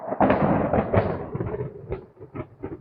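Thunder rolls and cracks during a lightning storm, a loud rumbling burst at the start followed by several shorter booms and crackles fading off.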